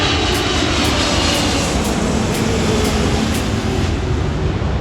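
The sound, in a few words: airplanes flying near LAX airport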